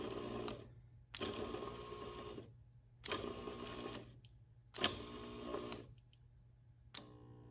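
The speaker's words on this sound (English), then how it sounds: "See that vibrating?" Drain pump of a GE washing machine that fails to drain, buzzing and vibrating in repeated bursts of about a second each, separated by short silences, close and fairly quiet.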